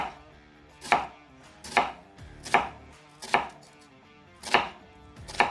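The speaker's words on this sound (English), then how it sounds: "So we start cutting, say the onions are like this." A knife chops an onion into brunoise on a board, six crisp evenly spaced strikes roughly a second apart, close and alone with quiet gaps between.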